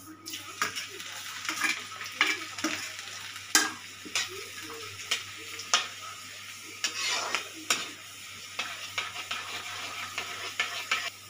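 Garlic frying in hot oil with roasted cumin and fenugreek seeds in a home kitchen pan, giving a soft steady sizzle broken by scraping stirs and clinks of a spoon against the pan, with no talking.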